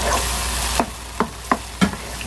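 Minced chicken keema frying in a pan: a steady close sizzle with four sharp spatula scrapes spaced roughly evenly in the second half.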